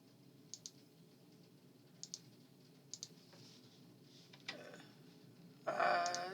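Several sharp computer keyboard and mouse clicks come singly and in quick pairs at irregular intervals in a quiet room, followed by a louder burst of rattling keystrokes at the end.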